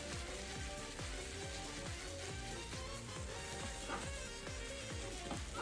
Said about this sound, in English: Next, add the tomato ketchup and stir well.